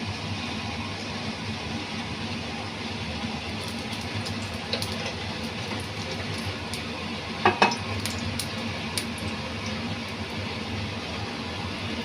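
Oil poured onto a very hot tawa on a high flame gives a steady, close hiss and sizzle throughout, with a few faint metallic clinks partway through.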